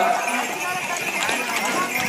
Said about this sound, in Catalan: tirat per 5 cavalls, manat pel Genís.